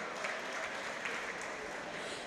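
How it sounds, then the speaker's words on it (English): Concert audience in Cork City Hall giving a sustained round of applause at a music academy anniversary concert, a steady, fairly soft wash of many hands clapping with no talk over it. "deserving of a very big round of applause"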